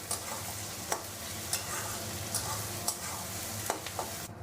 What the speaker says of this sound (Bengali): পেঁয়াজ ভাজা হয়ে গেছে, এরকম তোমরা লাল করে পেঁয়াজটা ভেজে নেবে